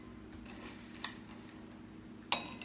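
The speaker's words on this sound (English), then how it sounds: "So, we're going to add some ice." Ice is scooped into a cocktail glass for a cherry soda cocktail, giving two sharp, close clinks about a second apart over a quiet background, with no voices.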